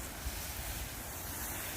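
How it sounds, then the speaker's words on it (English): Water spraying steadily from a hose onto collard greens in a backyard vegetable garden in upstate New York, a continuous broadband hiss with no voices. "go ahead and water my collard greens"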